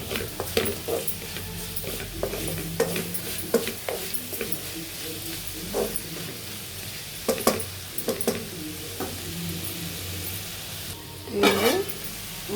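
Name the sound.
cluster beans pieces frying with chili and salt in a pan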